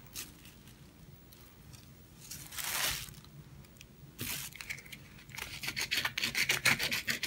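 Fine grit sandpaper rubbing over a painted lamp, irregular scratchy strokes up close that quicken into rapid short rubs toward the end.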